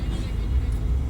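Busy street traffic on Tariq Road in Karachi, a dense, steady low rumble of passing cars and engines, continuous and fairly loud with no distinct single vehicle standing out.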